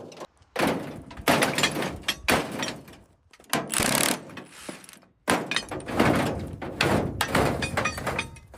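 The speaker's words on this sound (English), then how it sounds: "All right, pulling the door now." Heavy metal door of an old, badly rusted vintage fire truck being pulled loose and set down, with repeated scraping, grinding clanks and thuds in loud uneven bursts separated by short pauses.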